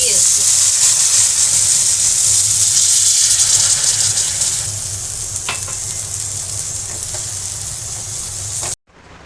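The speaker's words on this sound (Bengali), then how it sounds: "তাই জন্য এই পেঁয়াজটা এবার ভেজে নিচ্ছি" Onions frying in a pan during home cooking, a steady loud sizzle and hiss that softens midway and continues evenly, with a few light clinks of stirring before it stops abruptly.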